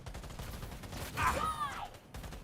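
Gunfire in the video game Cyberpunk, a burst of shots with a brief whooshing sweep, heard over continuous game background and a voice talking.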